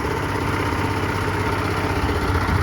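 An antique Kubota L13G tractor engine idles steadily with a low, even mechanical chug, running alone and close by.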